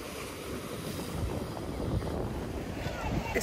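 Sea waves wash over a jetty on a windy day on the Greek island of Zante, a broad steady surf rush swelling slightly toward the end, with wind buffeting the microphone.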